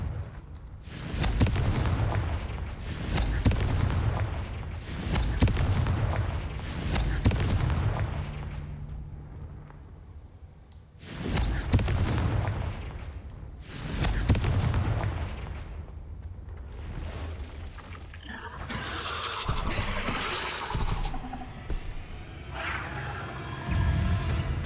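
Repeated fiery spell blasts from the Confringo charm in the video game Hogwarts Legacy, loud booming bursts arriving in quick clusters with gaps between, ending in a noisier crackling stretch of combat effects.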